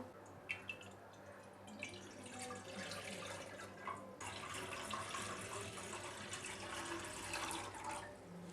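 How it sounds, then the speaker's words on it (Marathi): Water runs steadily from a tap into a pan for boiling, a continuous close splashing and trickle with occasional drips, heard alone without talk. "तर झाकण काढूया आणि यामध्ये ना आपण पाणी घालूया।"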